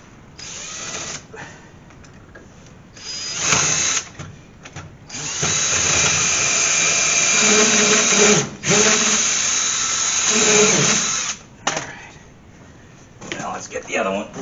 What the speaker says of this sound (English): We're going to go ahead and pilot drill this one.